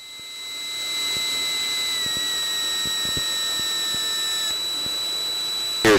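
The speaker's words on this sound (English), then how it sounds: "landing gear below 165, landing gear coming down" Landing gear of an airliner extends during a night visual approach to San Antonio International, heard as a steady loud cockpit whine and hum with faint periodic thumps, ending in a brief louder burst.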